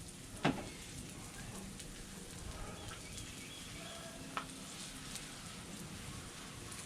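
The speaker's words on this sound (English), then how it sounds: "Get these down here with a lot of oil so they crisp up." Corn tortillas frying in plenty of oil on a hot griddle give a soft, steady sizzling hiss throughout, with a sharp pop or crackle near the start and another later on.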